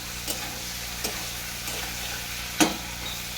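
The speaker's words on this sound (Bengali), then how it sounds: "আলু পেঁয়াজ সব কিন্তু কেমন ভাজা ভাজা হয়ে গেছে" Potatoes and onions frying in a pan for a winter flat-bean fish curry, a steady broad sizzle with a few sharp spoon taps against the pan, the last one loudest; no voices.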